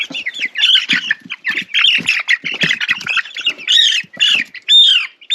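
Broiler chickens squawking while being moved from a brooder to a chicken tractor: a dense, continuous run of loud, close, agitated squawks and shrill calls with no talking.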